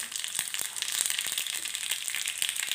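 Rapid crackling and popping of mustard seeds and a little cumin in hot oil, a dense sizzle with sharp little bursts scattered throughout, close and fairly loud.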